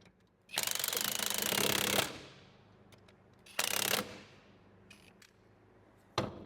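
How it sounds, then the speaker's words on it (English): An impact wrench snugging up the wheel bearing bolts on a Jeep JL gives three loud rattling bursts, a long one, a shorter one and a brief final hit, with quiet pauses between them. "Now I'm going to snug up the wheel bearing bolts with the impact"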